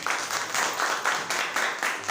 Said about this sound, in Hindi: हालेलुया हालेलुया जोर से ताली बजाएंगे।